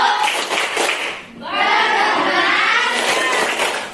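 A primary school class of sixth graders performs a rhythmic clapping chant before going home, claps and children's voices mixing loudly, with a short dip before the group chant resumes.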